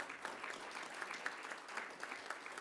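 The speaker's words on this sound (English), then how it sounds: "So I want you all to give them a round of applause." Applause from the audience at a launch event: a steady patter of many hands clapping, fairly faint and distant, lasting throughout with no talking.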